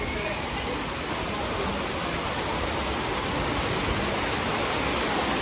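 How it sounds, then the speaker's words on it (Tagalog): Waterfall at Villa Escudero in the Philippines, a dense, even rush of falling water that holds steady and close for the whole stretch without any voices. "Nandito na tayo sa waterfalls."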